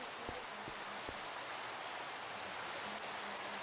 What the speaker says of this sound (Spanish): Vais a no trabajar hasta que pare de llover